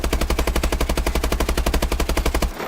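A Bal-27 rifle from Call of Duty: Advanced Warfare fires in one unbroken fully automatic burst, sharp shots repeating rapidly and evenly, loud and close, before cutting off abruptly.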